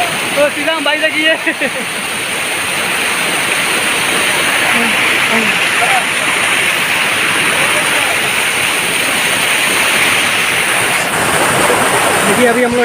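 A waterfall in Nepal pours with a steady, full rushing roar close by, with a few voices talking over it at the start and briefly later.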